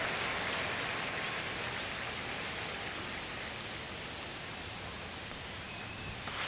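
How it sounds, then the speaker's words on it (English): Steady rain pours over a baseball field during an MLB The Show 25 game, a broad even hiss of drops lasting throughout with no breaks, moderately quiet and with no talking. "the field's not going to be able to hold up if the rain gets any worse than this"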